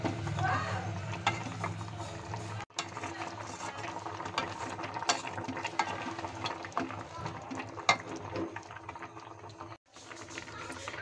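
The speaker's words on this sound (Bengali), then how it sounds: "এখন আমি একটু ঘন ঘন নেড়ে দেবো" A spoon stirs egg korma in a pan, giving repeated close scraping and knocking strokes over a low bubbling simmer, with brief pauses in the stirring.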